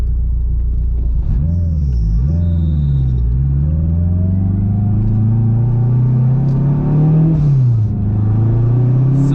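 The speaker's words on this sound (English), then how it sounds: "Second gear. Like, that was half throttle. It picks up and goes. Like, this turbo's pretty responsive." In second gear at half throttle, a turbocharged K24 AWD Acura RSX Type S pulls strongly, the engine note climbing loud and close in a smooth rising drone, with brief dips at gear changes.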